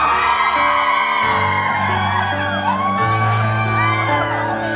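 A large concert audience at a clinic grand opening screams and whoops loudly and continuously, high excited voices overlapping above a sustained musical drone.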